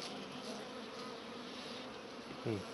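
Honey bees hum softly in a steady, faint drone at a small wintering hive in a sunlit spot, with a brief voice at the very end.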